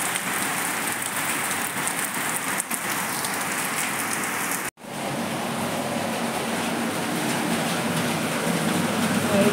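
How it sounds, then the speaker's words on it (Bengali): Heavy monsoon rain pours steadily and loudly, a dense continuous hiss of drops on surfaces with one brief dropout midway. "বর্ষার মতনই বৃষ্টি হচ্ছে।"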